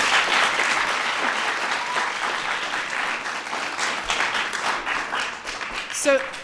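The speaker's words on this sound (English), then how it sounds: "So let's give them a big round of applause." A crowd of kids applauds LA Galaxy soccer players at a Let's Move! event, a steady moderate ovation that carries on for the whole stretch and stays even throughout.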